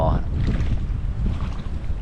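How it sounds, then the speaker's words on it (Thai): Strong wind roars steadily across the microphone on a small fishing boat at sea, a loud, continuous blustery rush with no clear breaks. "ลม แรง ดีเหมือนกัน ฮะ"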